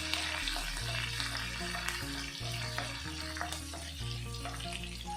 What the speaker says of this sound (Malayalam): പച്ചമുളക്, കറിവേപ്പില ഇത്രയും കൂടി ചേർത്തൊന്ന് ഇളക്കുക.